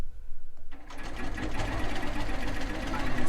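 After a brief quiet moment, a long arm quilting machine stitches binding with a rapid, steady mechanical chatter, close and continuous to the end.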